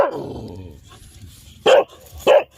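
A fading tonal sound is followed by two loud, close dog barks spaced well apart, with faint background noise between them.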